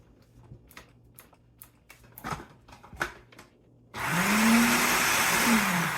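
A food processor pulses beans for a vegan bean burger in a home kitchen, whirring loudly and steadily for about two seconds after a stretch of quiet clicks and knocks.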